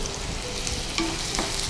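Chopped onion frying in a pan for pav bhaji, a steady low sizzle running throughout with faint scraping touches, no voices.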